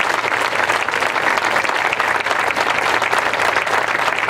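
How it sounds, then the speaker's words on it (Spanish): Dense, steady applause from a crowd fills a solemn town council session honoring an award recipient. It stays loud and continuous from start to finish, with no voices rising above it. "El aplauso esta tarde es para ti"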